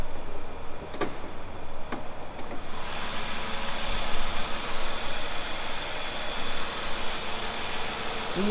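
A supercharged six-cylinder engine in a 2012 Jaguar XJL idles with the hood open, giving a steady, even hum with a few sharp clicks early on before the running note settles in.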